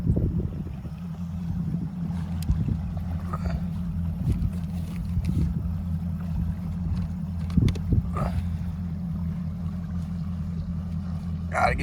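A boat motor idles on a small creek with a low, steady throb throughout, with occasional light knocks and wind over it.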